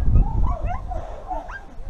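A Brittany puppy whimpers and yips in short, high, whiny bursts, close by, with low rumbling handling noise underneath.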